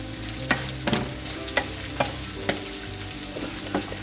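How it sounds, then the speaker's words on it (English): Vegetables seasoned with onion powder and garlic-herb seasoning being stirred in a pot, with a spoon knocking and scraping in a few distinct strokes over a soft sizzle, close and alone. "And I'm going to give that a mix."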